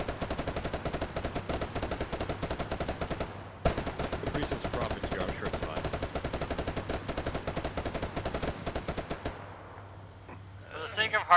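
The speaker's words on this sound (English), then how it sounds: "I can't hear you over the sound of their gunfire." Rapid, sustained automatic gunfire rattles almost nonstop in the Arma 3 video game, a dense stream of close shots that briefly pauses and then resumes before tapering off.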